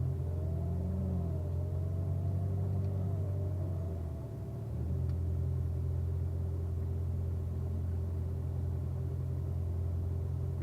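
Corvette on a braking exercise run at an owners school track, a steady low engine rumble heard from inside the car, briefly easing and dipping midway before holding a constant drone again, no voices.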